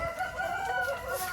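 Chickens in a muddy coop on a rainy day, a rooster's drawn-out crow rising over steady clucking, close and continuous through the short moment with no talk.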